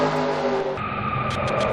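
Race cars in a racing video game crash together, with engine drone cutting off into a burst of skidding and crash noise, loud and close, followed by a few short sharp hits.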